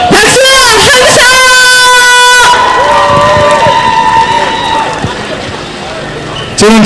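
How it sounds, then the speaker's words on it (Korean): Crowd at an outdoor election campaign rally in Andong for a Gyeongbuk education superintendent candidate cheers and shouts loudly, with an amplified voice calling out over the noise before it fades into steadier crowd sound. "박수! 함성!"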